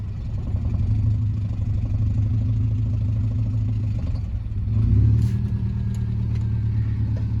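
A manual-transmission Subaru Baja runs at a steady, loud idle as it is driven, with a low engine drone and clatter that swells briefly near the end, no voices.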